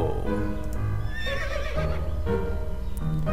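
A horse neighing in the video game To The Moon: a loud, wavering whinny rising and falling over a few seconds, layered on top of a steady game music background.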